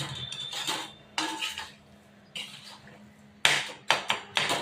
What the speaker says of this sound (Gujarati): બધોને હવે બરોબર મિક્સ કરી દઈએ.